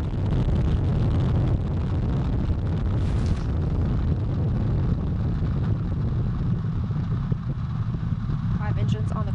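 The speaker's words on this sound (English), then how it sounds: "3, 2, 1, boosters in ignition. And liftoff of Artemis I." The Artemis I rocket lifts off on five core-stage engines and two solid rocket boosters, making a continuous, heavy, broadband roar and rumble with a voice over it.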